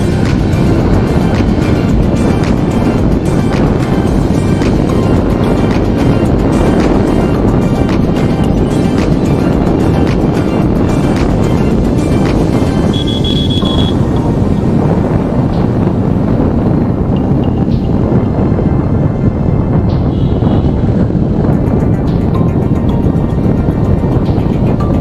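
A serviced Lifan KPS 150 motorcycle accelerating hard in second gear, engine droning loudly under heavy wind buffeting on the microphone and easing off toward the end.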